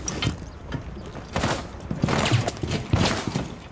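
Gunfire in the video game Rainbow Six Siege comes in several quick bursts of rapid shots with mechanical clatter, loud and close over roughly four seconds.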